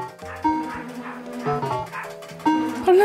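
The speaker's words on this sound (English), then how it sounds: "Those dogs are barking now." Dog barks and yips in a tonal, synthesized style come from a slot machine, with bright electronic jingles overlapping them in a quick, busy sequence.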